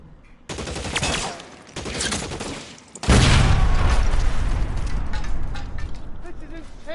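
Gunfire rattles in an L.A. Noire shootout, with bursts of rapid shots, a heavy boom and continuous loud firing that carries on under someone talking.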